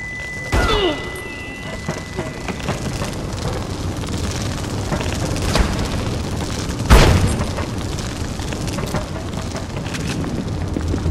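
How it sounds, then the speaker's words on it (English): A grenade explodes in the Reservoir Dogs PS2 video game, one loud boom near the middle that stands out above steady game ambience and shuffling noise. "Grenade!"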